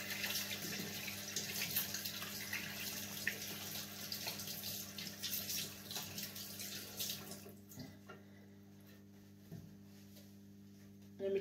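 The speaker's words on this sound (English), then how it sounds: "I have to wash my hand." Hands being washed under a running tap, a steady splashing stream of water at a sink, close and fairly quiet, continuing without talk and thinning near the end.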